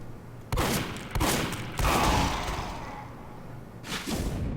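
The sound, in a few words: gunshots in a video game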